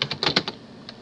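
Quick burst of keystrokes on a computer keyboard as a file name is typed, about six close, light clicks followed by a single later tap, with no talking.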